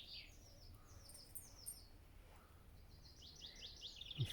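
Several birds sing and chirp in a quiet cottage garden in spring, with bright, intermittent calls at a moderate distance over a hushed outdoor background.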